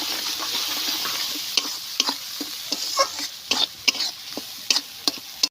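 A paste of ginger, cumin and dry chilli fries in a pan for a potato curry, with a soft continuous sizzle broken by repeated scraping clicks of a spoon stirring, close up and without speech.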